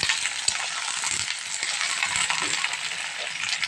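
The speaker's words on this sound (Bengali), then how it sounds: "বেগুনগুলোকে আগে একটু ভালো করে ভেজে নিই" Eggplant pieces, cut lengthwise into halves, fry in a pan with a steady, close, loud sizzle and crackle that runs unbroken, with no voices over it.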